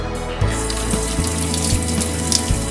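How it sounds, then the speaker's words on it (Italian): Water runs steadily from a sink tap as a basin fills, a continuous close splashing hiss with a few low knocks from the plumbing, alone without talk. "adesso aprite l'acqua."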